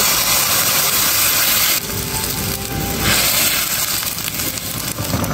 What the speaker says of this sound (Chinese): 开大火把汤汁熬到浓稠，